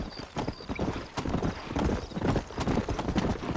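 Steady clip-clopping of horse hooves at a walking pace in the video game Red Dead Redemption, several hoofbeats in a regular rhythm, fairly close, with faint background ambience.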